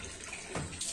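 Water pours steadily into a large soap-making batch being topped up to 230 litres, a close, continuous splashing rush with a brighter gush near the end.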